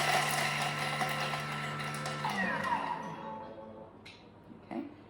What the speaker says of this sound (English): we're going to mince the garlic. That's 3 seconds,